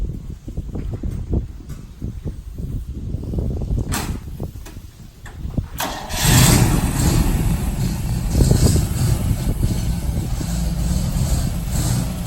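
A 1961 Chevrolet Corvette with a 4-speed sets off on the road: a door clunks shut, then the engine rises into a steady, loud driving drone with road and wind noise.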